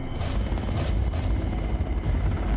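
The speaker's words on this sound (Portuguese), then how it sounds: "a bordo do helicóptero local do Quirguistão" A local Kyrgyz helicopter drones steadily from close range, a loud, continuous rotor thrum with pulsing blade chop and a whining engine tone throughout.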